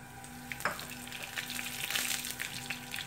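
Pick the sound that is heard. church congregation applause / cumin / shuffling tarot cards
cumin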